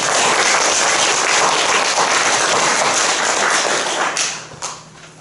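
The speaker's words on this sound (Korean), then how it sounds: "우리 심차게 박수 한번 하시겠습니다" A Korean church congregation at a Wednesday service gives dense, loud applause that holds steady for about four seconds before thinning into a few last claps.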